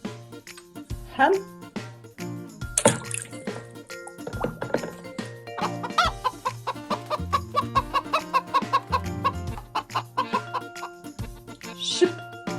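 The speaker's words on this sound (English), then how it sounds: "Hen." A hen clucks in a series of short calls over a steady musical backing, with a voice speaking briefly and a few chiming sounds mixed in.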